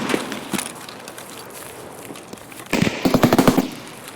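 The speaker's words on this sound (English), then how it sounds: "There's so much shooting." Gunfire in a shooter video game during a raid: a few scattered single shots, then a sharp, loud rapid burst of automatic fire near the end, with no talking.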